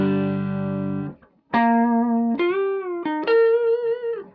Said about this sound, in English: But the AC30 set pretty much dimed on the normal channel, out of phase on the guitar, sounds like this.